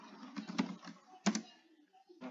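A computer keyboard clatters in short bursts of keystrokes while SQL is typed, with a couple of firmer single presses like Enter between brief pauses, close and quiet.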